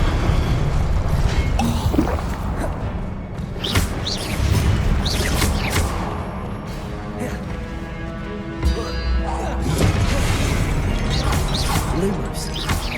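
Fiery spell blasts from Incendio and Confringo in the Hogwarts Legacy video game crack and boom repeatedly over a dense, continuous bed of game noise, with a character's voice calling out between the impacts.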